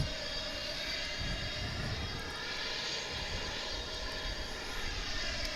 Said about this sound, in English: the engine sound could be an APU running